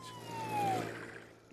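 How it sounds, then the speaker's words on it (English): A passing ambulance siren in a SpongeBob cartoon, a short falling wail under a muffled vehicle rumble that fades, ending in a sharp sound. "Look, an ambulance."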